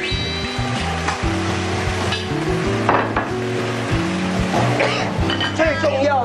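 Fish-fragrant eggplant stir-frying in a wok as chopped scallions go in, a steady sizzle and scraping under talking and background music throughout.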